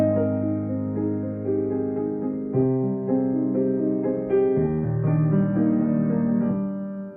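Piano arpeggios rolling across the keyboard from a song, rich sustained chords changing every couple of seconds with layered rising notes, steady and clear with no talking.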